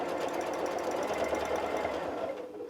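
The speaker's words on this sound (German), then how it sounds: "Wir nähen den ersten Kreis." A sewing machine runs at a fast, even stitching rhythm while free-motion quilting circles, its dense mechanical chatter steady and close before easing off at the very end.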